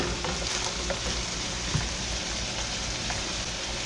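Ground beef browning in a skillet, with chunks left in for a spicy beef and cucumber dish, gives off a steady close sizzle and crackle. A few faint stirring clicks sit under the sizzle, and nobody talks.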